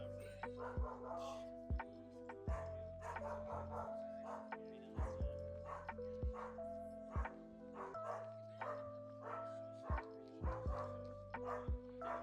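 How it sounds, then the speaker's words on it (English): A dog barks repeatedly in the background at a card game tournament venue, sharp yips and bow-wows spaced every second or so over a steady indoor hum, with no nearby talk. "The dog going that's in the background"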